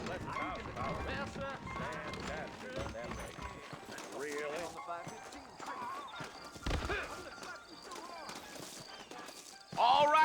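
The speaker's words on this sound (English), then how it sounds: "I got the horses saddled up and ready out front." Horse hooves clip-clop and gallop in Red Dead Redemption, a rhythmic run of hoofbeats under clear talking voices, with a louder burst near the end.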